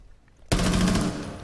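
Gunfire in the video game Rainbow Six Siege starts as a sudden loud burst of rapid automatic shots that keeps going without a break after a quiet moment.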